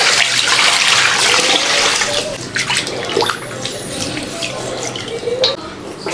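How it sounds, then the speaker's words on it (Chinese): Pieces of a whole chicken, two drumsticks and two breast pieces, rinsed under running tap water: a loud, close, continuous rushing gush with splashing that eases a little midway, then sloshes on. "加水洗一下"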